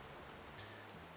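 Steady rain patters on a surface, a soft even hiss with no voices, continuous through the short stretch.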